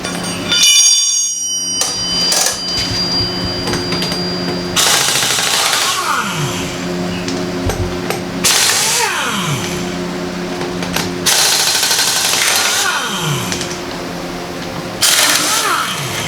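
An impact wrench removing lug nuts from a Mazda Miata wheel during a brake line job, with repeated loud rattling bursts of a few seconds each separated by short pauses, close up.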